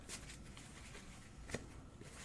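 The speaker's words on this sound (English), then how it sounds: "shuffle a little bit more" Tarot cards are shuffled softly by hand, a faint continuous riffling and sliding of card stock with a few slightly sharper flicks, quiet and close with no talking.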